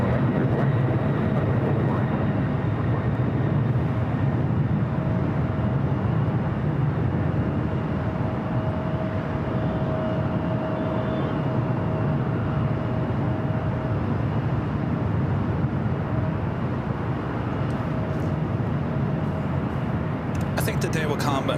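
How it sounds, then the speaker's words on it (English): Northern Air Cargo converted Boeing 767 jet at LAX, a steady broad roar with a faint whine, continuous and fairly distant, under occasional talk. "Northern Air Cargo, converted 767 heading to Honolulu."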